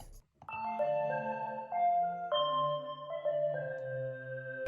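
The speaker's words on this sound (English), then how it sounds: "let's just turn down the attack so we can hear the initial organ sound" Sustained organ-like chords from a synth organ preset on an iPad, steady with smooth shifts between notes, played alone after a brief silent start.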